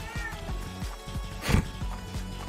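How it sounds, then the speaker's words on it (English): A cat meows for attention indoors, a few short calls over a rhythmic clattering background of game music, with one louder burst partway through. "I don't know if you can hear it, but my kitty is begging for attention"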